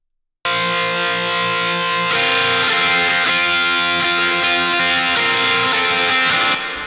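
Sustained distorted electric guitar lead drenched in wide Archetype Plini reverb, playing alone with dense, shimmering layered tone that thickens after a couple of seconds and rings continuously until a sudden stop, suited to emo anthemic rock.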